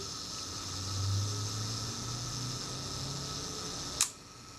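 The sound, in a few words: vintage camera shutter firing on self timer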